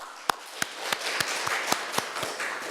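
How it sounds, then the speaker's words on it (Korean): A church congregation at a Thanksgiving Sunday service claps in a slow, even rhythm, about nine sharp claps in unison with a soft wash of scattered clapping between the beats. "우리 은혜를 주신 하나님께 박수로 영광을 돌리겠습니다"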